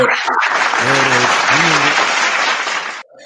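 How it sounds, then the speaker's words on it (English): A canned applause sound effect fires from a podcast soundboard button, a loud burst of studio clapping and cheering lasting about three seconds with a brief voice over it, then cutting off abruptly. "You got the applause button. I tried hitting it for you."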